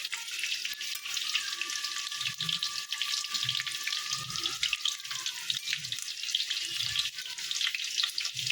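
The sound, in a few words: potatoes frying in oil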